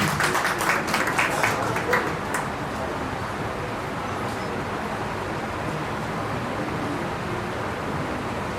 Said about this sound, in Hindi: तालियों से स्वागत श्याम जी।